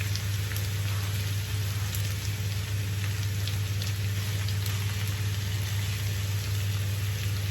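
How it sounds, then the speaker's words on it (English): Onions slide into a hot pan for a Mediterranean-style lamb shoulder confit and sizzle in a steady, even hiss that holds unbroken throughout over a low hum, with no talking. "And then you slide your onions in it"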